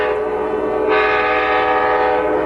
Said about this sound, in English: a three-stop train ride through economically troubled western Pennsylvania